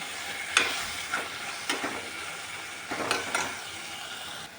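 Tomatoes frying in a pan for tomato biryani are mashed with a spoon, giving a steady close sizzle broken by several sharp scraping and tapping strokes.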